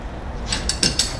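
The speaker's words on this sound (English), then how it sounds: "you take your pliers, and you turn on your service valves" Service valve on a Navien NPE water heater turned with pliers, a few short metallic clicks and ratchety snaps in quick succession, close and crisp against a quiet background.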